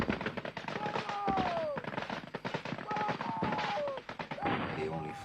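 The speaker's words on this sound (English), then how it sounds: "They only fired back for a couple of minutes with machine guns" Machine gun fire in a long morning assault during an African anti-colonial conflict, heard as dense, continuous loud bursts with overlapping cracks and rattles, no quiet gaps between volleys.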